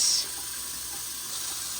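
Hot water swirls through a Ninja Slushee machine during its rinse cycle, a steady close hiss of running, sloshing water with no voices.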